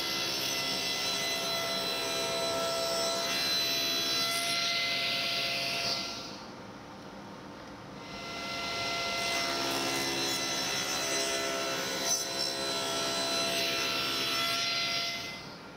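Table saw blade cutting wooden wedges for a wedged mortise and tenon joint, a loud sustained whine with a short dip in the middle before the cut resumes, heard alone without talk.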